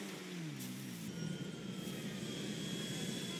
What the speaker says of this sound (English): Ooh, a luxury plane.